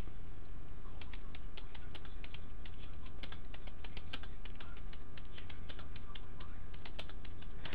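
Steady typing on a computer keyboard while writing text in Microsoft Word, with quick, continuous clicking keystrokes heard up close and no talking.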